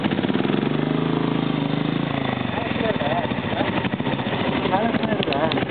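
An off-road vehicle engine labours up the rough Alambarai Fort track, a steady close mid-pitched drone that keeps running throughout, with a voice talking over it for most of the stretch.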